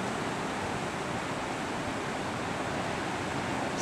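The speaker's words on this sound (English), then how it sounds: "of the waves crashing against the rocks" Ocean waves crashing against coastal rocks, heard as a continuous broad roar of surf and spray, steady and fairly loud throughout with no voices.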